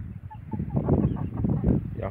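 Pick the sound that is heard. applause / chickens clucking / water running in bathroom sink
chickens clucking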